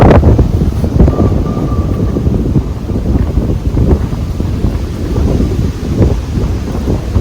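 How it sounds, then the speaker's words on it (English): Strong outdoor wind buffets the microphone in a loud, continuous low roar with gusty rumbling surges and no pauses, and no voices come through. "Hope we can still be heard over the wind."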